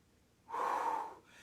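A single loud, close breath pushed out during an upper-body dumbbell exercise, a strong exhale lasting under a second, followed by quieter breathing.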